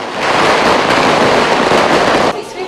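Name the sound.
firecrackers exploding at New Year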